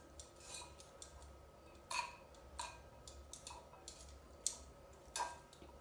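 Utensils toss a red cabbage salad in a bowl, giving a scattered series of light clicks and taps with soft rustling between them, close but quiet.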